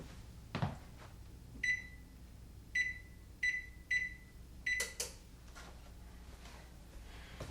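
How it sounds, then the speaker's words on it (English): An oven gives a series of short electronic beeps as it is switched on for baking an apple pie, five spaced chirps with soft clicks around them, faint and alone in a quiet kitchen. "Good time to turn on the oven."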